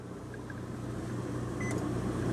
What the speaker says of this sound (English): Microwave works, so that's one other thing you can cross off your list.